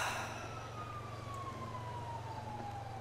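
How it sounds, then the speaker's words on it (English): A police siren in GTA 5 wails steadily over a low engine rumble, slowly gliding downward in pitch, with no voices. "Oh, hold on, I can hear sirens."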